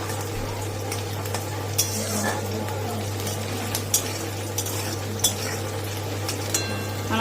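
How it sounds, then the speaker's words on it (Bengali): Ground spice paste fries in a pan for egg curry, a continuous sizzle under a low steady hum, punctuated by several sharp metallic scrapes and clinks of the stirring spoon. "তারপরে বাটা মশলাগুলো দেবো দিয়ে কষাবো"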